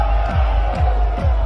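Large packed crowd at a DJ set cheering loudly and continuously, a dense roar with rhythmic bass thumps pulsing underneath.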